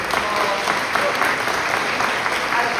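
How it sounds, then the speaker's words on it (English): Steady, loud applause from a large audience, dense clapping throughout with no pauses. "Can we give everyone a round of applause?"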